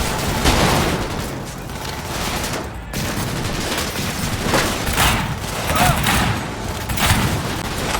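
Dense, loud gunfire in Cyberpunk 2077, sustained bursts of automatic fire and booming shots with a brief pause near the middle, mixed with shouting voices.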